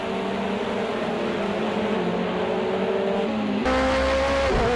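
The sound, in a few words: LMP2 race car passing in video game Project Cars 2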